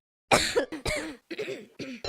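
A cartoon character gives a short run of coughs and throat clearing, four or five close, loud bursts separated by brief pauses, alone with no other sound.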